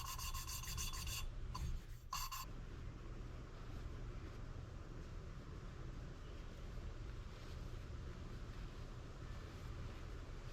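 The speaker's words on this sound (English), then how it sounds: "it's quite easy to lap the valve" A Honda Goldwing engine valve being lapped into the cylinder head gives a couple of seconds of close, gritty rasping strokes, which fade into a quiet, steady background hum.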